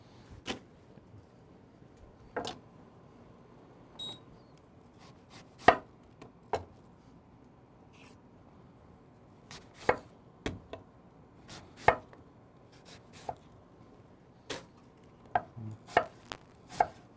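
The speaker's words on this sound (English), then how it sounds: "So I want to make a nice little small slices here." Sharp, irregular knife taps on a cutting board as figs are sliced into small pieces for chutney, the close, dry clicks coming in uneven clusters against a quiet background.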